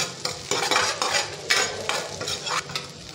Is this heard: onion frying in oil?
yes